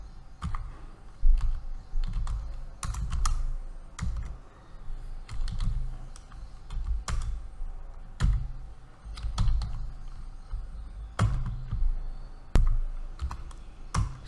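Code being typed on a computer keyboard, close and steady bursts of key clatter with short pauses between runs, with no voice over it.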